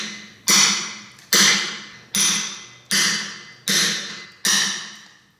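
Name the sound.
bushing chisel struck with a hammer on stone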